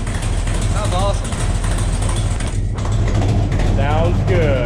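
A 1972 Buick Skylark with a 427 engine runs steadily at close range, a constant low rumble with a ticking exhaust leak from an open O2 sensor bung underneath, while people talk over it.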